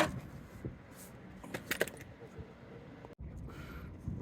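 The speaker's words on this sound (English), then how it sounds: "you use a 17 millimeters right there" A 17 mm wrench on the oil drain nut of a 2020 A90 Toyota Supra with the 3.0L engine, light metallic clinks and jangling taps against the nut, quiet and close amid garage background noise.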